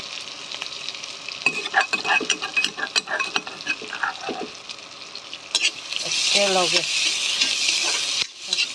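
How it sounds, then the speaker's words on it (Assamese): Onion, chili and ginger are stirred and fried together in a pan, with loud sizzling, repeated scraping and clinking of the spoon, and a brief voice partway through. "পিঁয়াজ, জলকীয়া, আদৰক সব মিক্স কৰি লগাইছোঁ।"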